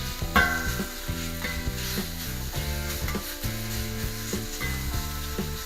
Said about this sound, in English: Now spread the steak out so it's all in contact with the plancha.